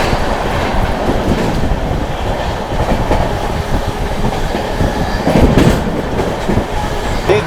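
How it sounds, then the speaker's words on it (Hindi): Sealdah–New Delhi Rajdhani Express (12313) speeding through Etawah Junction, recorded from on board: a loud, steady roar of wheels and rattling carriages with clickety-clack rhythm throughout, swelling briefly near the end, no voices. "क्या गजब की रफ्तार में स्किप किया है भाई शानदार राजधानी ने इटावा जंक्शन रेलवे स्टेशन"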